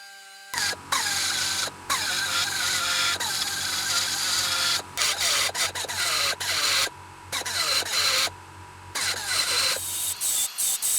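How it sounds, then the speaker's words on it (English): High-pitched whine of a die grinder with a carbide cutter shaping metal, close and loud, in repeated bursts separated by short pauses and changing pitch as it bites into the work. "here I like to use a die grinder for the rough work. These carbide cutters remove material pretty quickly"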